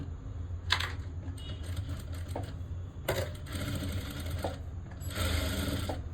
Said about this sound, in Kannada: ನೀಟಾಗಿ ಹಿಂಗೆ ಇಟ್ಕೊಂಡು ಈಗ ಸ್ಟಿಚ್ ಹಾಕೊಂಬಂದ್ಬಿಡೋಣ